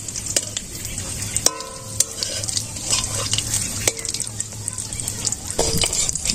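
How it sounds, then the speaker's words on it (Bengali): Tilapia fish fritters frying in hot oil in a village kitchen, a steady close sizzle with occasional stirring clinks and scrapes of a utensil throughout. "তো লাল লাল করে ভেজে নিলাম"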